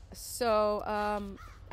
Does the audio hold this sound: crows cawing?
yes